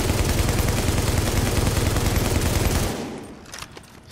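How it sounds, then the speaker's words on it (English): LMG machine gun in The Division fires a loud, sustained automatic burst of rapid, evenly spaced shots for about three seconds. Then it stops abruptly, leaving quieter clicks and faint game ambience. "now we got the LMG"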